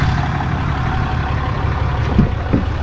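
An engine left running to charge its battery, a steady low idle rumble close by with a couple of small knocks near the end.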